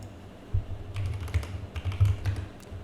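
Keys tapped on a computer keyboard during software reverse engineering work, a few soft clicks in a short irregular burst under a low steady hum.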